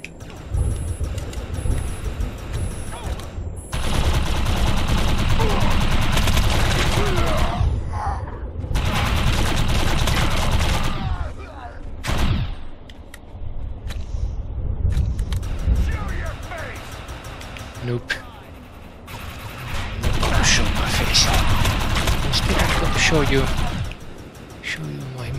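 A machine gun in the PC video game Defiance 2050 fires in long, loud sustained bursts. The bursts are separated by short lulls, and voices talk intermittently between and over them.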